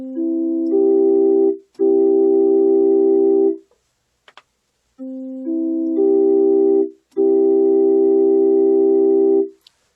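Pure-tuned tones with no beat frequency, tuned to just intonation instead of equal temperament, play as clean steady sine-like notes in four long sustained blocks separated by short gaps, some stacked into chords, close and loud with no talking.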